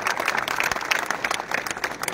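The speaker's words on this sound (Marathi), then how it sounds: "टाळ्या जोरात वाजवा." A rally crowd at an Indapur municipal council election claps loudly and continuously, a thick even wash of many hands with no break.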